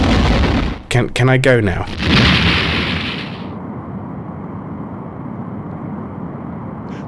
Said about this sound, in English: The Romulan warbird has been destroyed